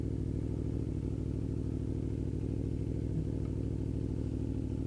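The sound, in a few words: motorcycle rolling in neutral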